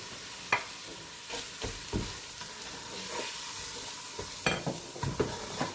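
Browned onions go into a simmering lamb korma and get stirred, giving a low, soft sizzle broken by sporadic scraping knocks of a spoon against the pot.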